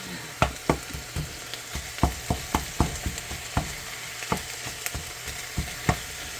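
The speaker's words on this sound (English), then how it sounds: "we're just going to want to get that all fried up" Ground turkey frying in a pan, a soft continuous sizzle punctuated by a dozen or so sharp clicks and scrapes of a utensil stirring the meat at an irregular pace, with no voices.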